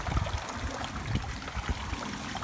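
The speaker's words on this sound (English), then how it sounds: "Love the sound of that water." Water splashes and trickles steadily down a pondless waterfall in a continuous, close, moderately loud outdoor flow with no voices.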